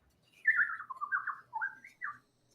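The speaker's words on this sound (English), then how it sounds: "Birds." A single bird chirps and warbles in a few short, clear phrases, close and alone against near silence.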